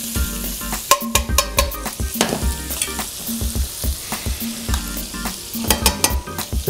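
Salmon and zucchini sizzle in a pan while a utensil scrapes and stirs, giving repeated clanks and scraping strokes over a constant frying hiss, close up, with no talking.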